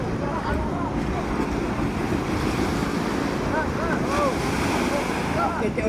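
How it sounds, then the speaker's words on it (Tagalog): Continuous roar of large ocean waves and surf with gusting wind buffeting the microphone, steady and loud throughout. "Anong laki ng alon yun?"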